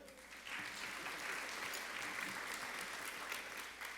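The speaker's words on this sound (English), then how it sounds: "Let's give one more round of applause for our senior class and student council officers and sponsors." Audience at a high school senior awards ceremony applauding senior class and student council officers, a dense, even wash of clapping that swells in after a brief pause and holds steady, heard from a distance in a large hall.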